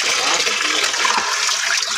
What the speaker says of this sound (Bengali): এটা অন্ধকারে মাছ ধোয়া হইতেছে